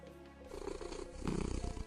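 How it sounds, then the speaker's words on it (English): A cat in the video game In Stars and Time purrs in a steady, low rumbling loop that grows louder midway, close and alone without talk. "Purr."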